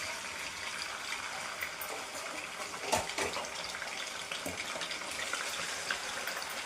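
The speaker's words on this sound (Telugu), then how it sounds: "ముందుగా ఫ్రై చేసి పెట్టుకున్న చికెన్ని వేసుకుందాము." Pre-fried boneless chicken pieces go into hot oil in a pan for a spicy pickle, raising a steady, loud hiss and sizzle throughout with a few sharper crackles and pops partway through, no voices.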